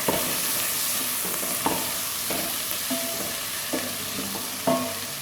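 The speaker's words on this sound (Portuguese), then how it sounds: "Agora eu vou colocar o tomate. Vou mexer um pouco." Tomato, bacon, calabresa sausage, garlic and onion fry together in a pan, a steady sizzle broken by periodic spoon scrapes and clinks as the mix is stirred, close and moderately loud.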